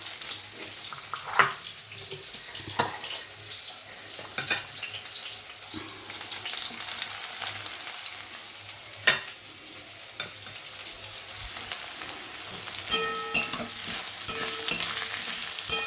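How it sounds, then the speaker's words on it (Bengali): Potatoes and onions fry together in a pan with a steady, close sizzling hiss, broken by occasional sharp scrapes and clicks from stirring throughout. "একেবারে পেঁয়াজ আলু একসাথে ভাজা হয়ে যাবে।"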